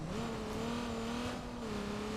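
A patrol car driving off-road, its engine holding a steady drone with a slight rise in pitch, loud and continuous without talk.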